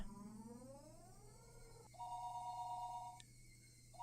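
A telephone rings on the line in the Higurashi When They Cry visual novel after a dial tone, with clear repeating electronic ring tones that are soft and isolated, with no voices.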